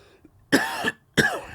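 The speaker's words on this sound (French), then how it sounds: "Je sais pas pourquoi je tousse de même" Two sharp, close coughs in quick succession, each a harsh burst of breath.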